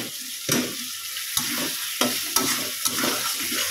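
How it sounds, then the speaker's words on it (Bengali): Potatoes and eggs going into hot spiced masala in a home kitchen pan, with steady sizzling frying and several sharp scraping stirs of a spatula at irregular intervals. "এবার আলু আর ডিমটা একসাথে দিয়ে দেবো"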